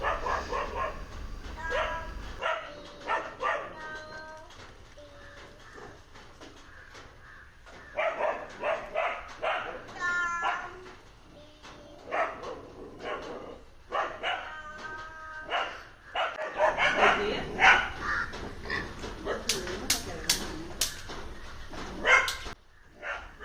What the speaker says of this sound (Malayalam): കുര കേട്ടു